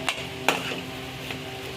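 Spoon mashing boiled potatoes in an iron kadhai for vada pav, a few sharp metallic knocks and scrapes spaced apart, close and fairly quiet, with no voices.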